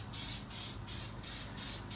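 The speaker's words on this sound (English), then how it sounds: "we're gonna give it a little bit of a spray" Five short bursts of cooking oil spray hiss over vegetables in a pan in a steady rhythm, close and fairly loud, with brief pauses between each.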